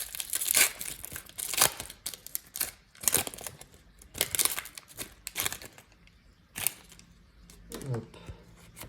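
A Cosmic Eclipse Pokémon card booster pack wrapper is crinkled and torn open in repeated sharp bursts of crackling foil, close and loud between pauses, with a voice speaking briefly near the end.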